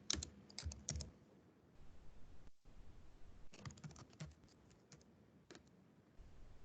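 Typing on a computer keyboard, quick bursts of light plastic key clicks with short pauses between, close and fairly quiet with no talk.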